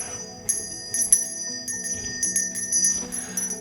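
A charity kettle bell ringer's hand bell jingles in irregular bursts of bright, repeated rings, fairly close and moderately loud, with no talking.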